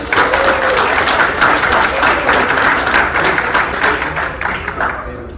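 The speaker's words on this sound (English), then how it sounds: "give him a round of applause" Applause from an indoor audience at a leadership workshop, cheering on a volunteer: dense, steady clapping that stays loud throughout and thins slightly at the end, with a few voices mixed in.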